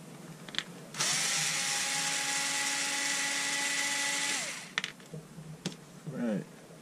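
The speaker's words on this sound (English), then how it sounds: "I'll spare you the drilling." A steady high-pitched power-tool whine from a DeWalt DCF887 impact driver runs for about three and a half seconds, then cuts off, followed by a few short clicks and handling noises.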